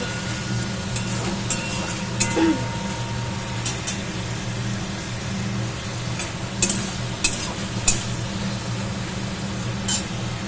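Meat fries in oil in a home kitchen with a steady soft sizzle, a continuous close hiss broken by a few light clinks and stirring taps.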